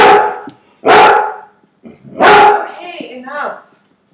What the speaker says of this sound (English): If you watched my old channel, you would know that he barks in almost every video.